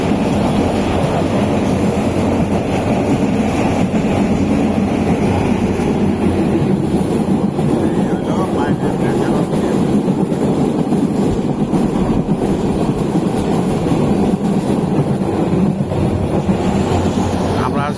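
A morning train between Laksam and Feni stations in Bangladesh rumbles along the rails with a steady, continuous roar and wind buffeting, loud and unbroken throughout.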